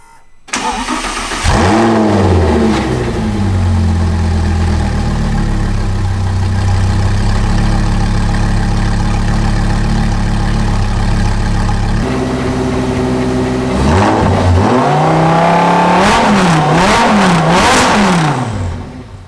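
A blown-up Audi R8 V10 engine fires up, settles into a rumbling idle, then revs sharply several times, loud and close.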